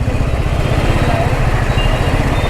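A Royal Enfield motorcycle thumps steadily with a low pulsing engine rumble as it rides through traffic, close and continuous.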